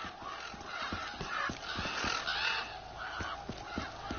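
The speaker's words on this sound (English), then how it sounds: "Freaking birds." Birds caw repeatedly in the Black Ops 3 video game, a steady series of harsh calls layered over game ambience for a few seconds.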